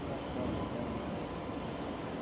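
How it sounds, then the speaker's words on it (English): Onboard a Sydney light rail train headed toward Circular Quay, a steady low rumble and rolling noise fill the carriage. Faint background chatter sits underneath. "And here we go, we're on the train."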